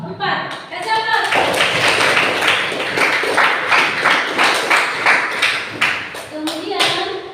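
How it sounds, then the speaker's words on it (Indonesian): Classroom applause from a group of students, a burst of many hands clapping together that starts after a second and keeps going steadily and loud for several seconds, with children's voices mixed in. "Kasih aplaus"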